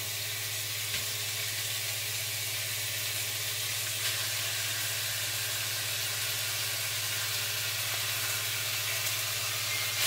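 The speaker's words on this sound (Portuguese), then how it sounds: "Tô fritando a carne. Tô separando bem para ela não ficar empelotada." Ground beef frying in a pan, being broken apart as it cooks: a steady, close sizzle with a constant hiss and low hum running evenly throughout, no talking.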